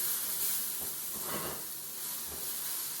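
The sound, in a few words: mushrooms sautéing in a pan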